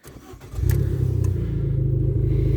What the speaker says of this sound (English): I will start the car and give you a demonstration of the exhaust